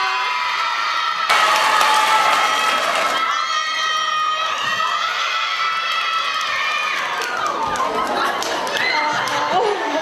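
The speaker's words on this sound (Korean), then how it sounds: "더 큰 환호와 박수로 친구들을 불러주세요" A school audience in a girls' high school presentation contest cheers and shouts loudly with a burst of applause, voices overlapping throughout, fairly close and sustained.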